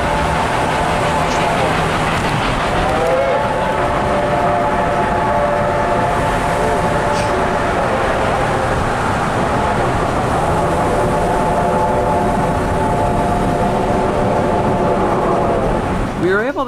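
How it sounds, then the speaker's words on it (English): Reading T-1 2102 steam locomotive chuffs steadily with heavy rumbling exhaust, and a long harmonic whistle sounds twice, loud and close. "we got to hear some stack talk and whistle action from the road"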